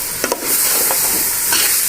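Onions fry in a pan for bhindi masala, making a constant near sizzle with a couple of brief clicks from a utensil at the start.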